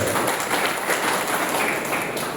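An audience at a village retreat centre gathering near Rajkot applauds the village sarpanch of Jamoda with dense, steady clapping that fills the space evenly throughout, without speech.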